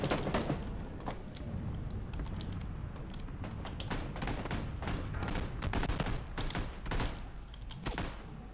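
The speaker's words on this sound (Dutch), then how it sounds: "ze lopen nou wat te knallen op ons" Rapid gunshots from enemies in PlayerUnknown's Battlegrounds, a steady stream of sharp cracks and thuds at moderate distance, nearly without talk.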